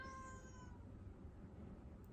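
A pet cat gives one short, faint meow at the start, then only quiet room noise follows indoors.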